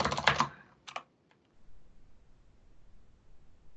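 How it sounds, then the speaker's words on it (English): A loud, clacky computer keyboard is typed on close up, with a quick burst of keystrokes, then a few isolated clicks, fading into quiet room hiss. "If you guys are familiar with Matthew, he's not a fan of the loud clacky keyboard"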